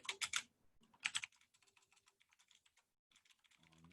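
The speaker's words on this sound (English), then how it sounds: "I'll type your answer here." Typing on a computer keyboard during a beginner game-coding lesson: two loud bursts of rapid keystrokes open the clip, followed by a run of softer, scattered clicks and a brief closing flurry.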